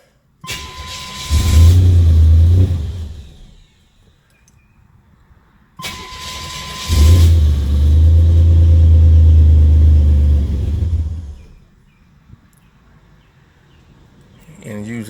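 A Buick Grand National engine revs loudly in two long bursts, each climbing to a strong roar and holding before dropping back to a rough idle, close and dominant.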